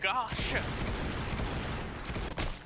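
Rapid gunfire bursts in an online shooting game tournament match, dense and continuous, with players talking over it.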